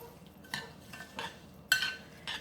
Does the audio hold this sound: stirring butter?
yes